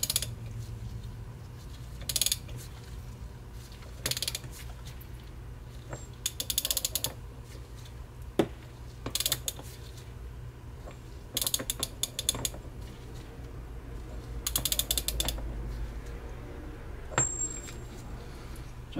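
Fasteners on a Roosa Master diesel injection pump being rebuilt for a Ford tractor are tightened with a ratchet, giving short bursts of close, crisp clicking separated by pauses and the occasional metallic tap.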